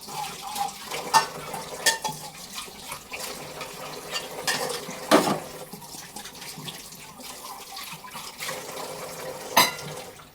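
Dishes being washed at a kitchen sink, with running tap water and scattered clinks and knocks of pots and plates, steady and close with no talking.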